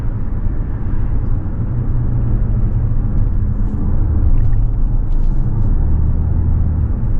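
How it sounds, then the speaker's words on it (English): Steady wind rush over the windshield of a 2025 Toyota RAV4 SE Plug-in Hybrid cruising at 35 to 40 mph, a constant broadband hiss over low road rumble inside the cabin, with no talking. "Wind noise on the windshield at, 35, 40 miles an hour."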